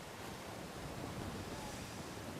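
Wind blowing over open water during a skûtsjesilen sailing race at Earnewâld, a steady, soft broadband rush with gusty texture and no voices.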